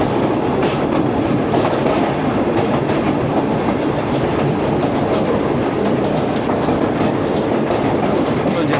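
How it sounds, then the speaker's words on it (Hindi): Main Line 1 train near Lahore racing past at speed: a loud, close, continuous rumble with rhythmic clickety-clack of wheels over rail joints, steady throughout. "तो जनाब मेन लाइन 1 वाली ट्रेन वो तो स्पीडें मार के निकल गई।"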